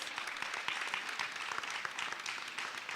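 Audience applause for the winning Clement Howell High team at an inter-high school final, dense steady clapping from a sizable crowd, fairly faint and continuous.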